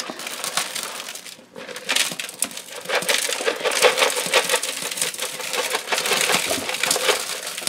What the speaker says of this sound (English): so now we're going to put a lot of rock salt. Really coat that ice with that rock salt.